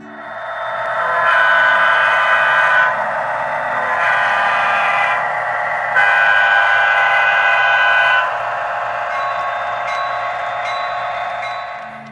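A model train locomotive with a dual-mode digital control system plays its built-in sound effects: a sustained, loud, close whistle or horn blast rising and falling in several long swells for about twelve seconds, with no talking.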